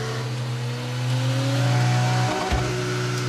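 A car engine revs up loud and near, its pitch rising smoothly before a sharp shift-like drop, then it settles at a steady drone.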